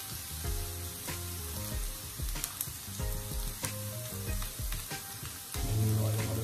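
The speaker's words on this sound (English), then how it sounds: "You just want to slightly saute them." Garlic sautéing in a pan for honey garlic chicken wings, a close, busy sizzle with irregular crackles and stirring scrapes, rising in loudness toward the end.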